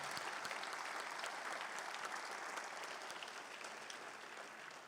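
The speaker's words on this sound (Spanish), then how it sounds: "Fuerte ese aplauso al Señor." Faint congregation applause during a Spanish-language Sunday church service, a steady wash of many hands clapping heard from a distance and easing slightly toward the end.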